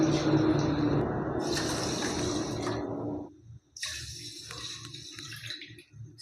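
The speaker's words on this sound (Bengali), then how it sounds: "এবারে দেখুন আড়াই কাপ চিনির জন্য আমি এখানে জলটা কতটা দিয়ে দিচ্ছি" Water poured from a vessel onto sugar in a pot for making rasgulla syrup: a continuous splashing, filling pour for about three seconds, a short pause, then a lighter, bubbly trickling pour.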